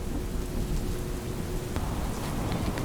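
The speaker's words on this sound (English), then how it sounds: "accompanied by rain and thunder" Steady rain pours continuously while low rumbling thunder rolls underneath, with a sharp crackle partway through.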